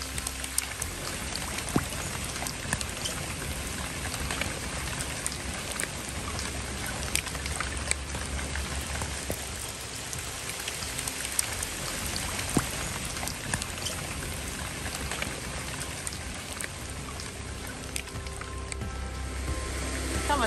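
Rain dripping softly off leaves in a quiet outdoor spot in northern Spain, a steady dense patter of drops with occasional louder splashes, continuous and close throughout with no voices.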